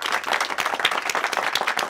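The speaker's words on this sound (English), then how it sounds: "how about a warm round of applause for Professor Dr. John Lennox?" A short, loud, dense burst of audience applause for Professor John Lennox at La Bastide, with many hands clapping close together and no voices.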